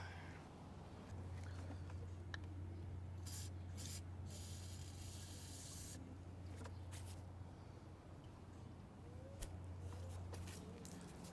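Lubricant sprays from an aerosol can in short hisses while working on a BMW 740i, the bursts close but fairly soft over a steady low hum.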